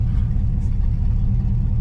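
A car fitted with a rebuilt 700R4 transmission creeps forward, a loud, steady low engine rumble filling the short stretch without any jerks or breaks.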